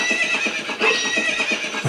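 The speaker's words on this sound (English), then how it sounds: "say if you get this cool horse with you, so no more running for Link" A horse in The Legend of Zelda: Ocarina of Time whinnies loudly and close, its neigh blending with steady clip-clop hoofbeats throughout.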